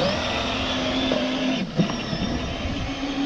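A battery-powered Power Wheels ride-on toy car, its rear tires worn down to slicks, drives past with a steady motor whine and rolling rumble, continuous and fairly close, with no talking.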